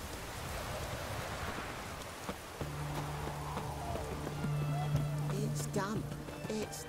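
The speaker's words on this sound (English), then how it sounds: "It's raining, of course it's going to be damp." Steady rain in the video game The Witcher 3: Hearts of Stone patters throughout, with a low hum and scattered chirps and clicks layered on top.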